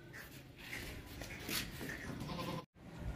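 Goats bleat continuously up close at a livestock market selling sacrificial male goats and milking nanny goats, with dense overlapping cries and a broad noisy hubbub filling the entire stretch, broken by one brief dropout.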